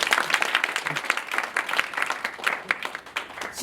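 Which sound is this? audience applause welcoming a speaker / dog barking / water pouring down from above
audience applause welcoming a speaker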